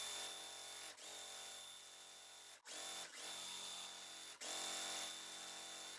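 A sewing machine chain-pieces fabric quilt block pieces, its needle running in a fast, steady whir. The run breaks off in short pauses between pieces before picking up again. Close and fairly quiet, with no talking.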